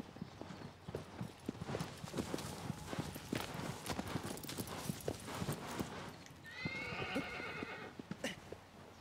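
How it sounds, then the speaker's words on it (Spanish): Galloping hoofbeats from a horse in the video game Shadow of the Colossus drum in a steady, close rhythm throughout, joined near the end by a loud whinny, with faint game sounds underneath. "No sé cómo parar mi caballo"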